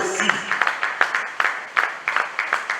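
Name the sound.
congregation applauding at Easter celebration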